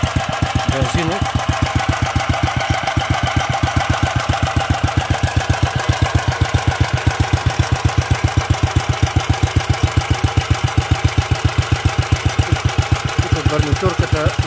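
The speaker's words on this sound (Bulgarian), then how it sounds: "Тестваме този двигател ВТ88, 15 конски сили, бензинов." A small 15 hp Akme VT88 petrol engine with a gasket leaking oil runs steadily nearby, its rapid, even exhaust pulses thumping in a continuous rhythm with no voices.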